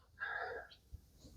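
A single short sneeze, a quick breathy burst followed by a faint catch of breath, fairly quiet and in the foreground of an otherwise still room.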